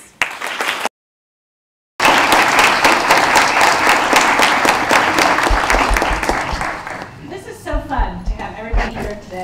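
An audience at a children's symposium bursts into sustained applause to welcome a speaker. The dense clapping fades toward the end as a voice begins speaking.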